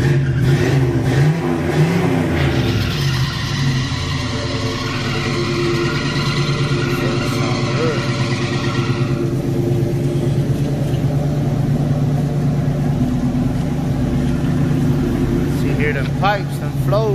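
A 1987 Buick Regal Limited engine with dual exhaust rumbles deep and steady up close, with a brief rise in revs near the start, then a throaty idle continuing to the end.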